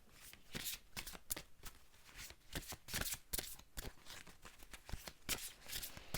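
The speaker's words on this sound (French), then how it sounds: "maintenant on va les recouvrir avec les cartes de l'archange Michael" Archangel Michael oracle cards being shuffled and laid out, a steady run of crisp riffling and flicking card sounds close by with no talk.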